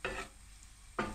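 Noodle-dish ingredients for chicken noodles with meatballs and mushrooms sizzle in a hot pan in two short bursts of frying and stirring, separated by a quiet pause.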